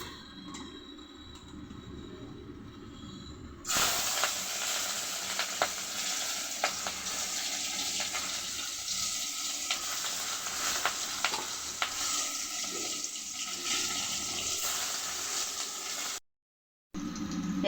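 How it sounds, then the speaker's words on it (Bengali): Tangra fish sizzle in a hot pan on a home kitchen stove, a steady crackling fry that starts abruptly after a quieter stretch, with occasional clicks and scrapes of stirring before cutting off near the end. "এটার মধ্যে এখন মাছ ভাজি করবো"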